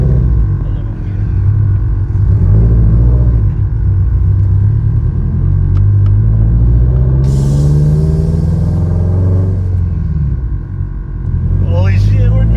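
Built-engine Toyota GR86 under way on the road, its low engine drone and road rumble running steadily throughout, swelling and shifting pitch as it moves, with excited talk from inside the cabin over it.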